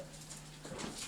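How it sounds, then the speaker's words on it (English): A dog whimpers and yips indoors, soft at first, then growing a bit louder and more agitated toward the end of the short moment. "our dog are going crazy"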